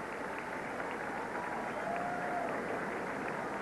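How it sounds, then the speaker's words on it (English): A large crowd at Santa Anita racetrack applauds Lady's Secret, winner of the 1986 Breeders' Cup Distaff, with some spectators standing. The clapping is a steady, dense, continuous wash that sounds fairly distant, with no talking. "this huge crowd at Santa Anita, some of them standing, applauding Gene Klein's Lady's Secret"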